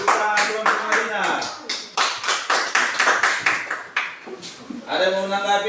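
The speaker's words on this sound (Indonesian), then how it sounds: "Tepuk tangan kelompok Madinah." Group of students in a classroom clapping in rhythmic patterned bursts, loud and close, with short pauses between sets; children's voices chant along and talk at the end.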